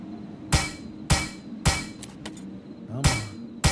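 Hammer strikes in the Plains of Pain video game, six sharp metallic hits at a steady rhythm about half a second apart, with a couple of faint clinks between, close and loud.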